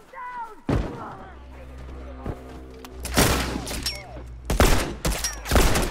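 Gunfire bursts from a heavy-recoil gun in The Last of Us Remastered multiplayer, with several loud broadband shots around 0.7, 3.2 and 4.6–5.8 seconds over game ambience, while a player talks.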